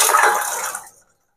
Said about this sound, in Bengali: এই যে 1 কাপ জল দিয়েছি।